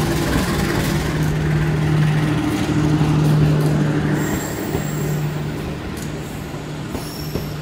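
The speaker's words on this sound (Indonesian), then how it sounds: "Sawunggalih melintas" A Sawunggalih passenger train passes through a busy station at night, a loud steady rumble of wheels and cars with sustained tonal hum and brief high squeals, continuous throughout.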